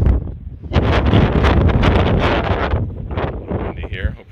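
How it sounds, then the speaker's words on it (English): Loud, gusty wind buffets the microphone in a continuous roar on a mountain stretch of the Pacific Crest Trail, easing slightly toward the end. "a little windy here, hopefully you can hear me"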